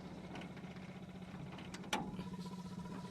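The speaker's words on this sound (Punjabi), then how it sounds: "ਸਾਊਂਡ ਚੈੱਕ ਕਰ ਲਓ ਬਈ ਗੱਡੀ ਦਾ ਜਮਾ ਹੀ ਬਾਈ ਸਾਇਲੈਂਟ ਆ" A 2004 Maruti Suzuki car engine idling, a quiet low steady hum with a faint brief click partway through.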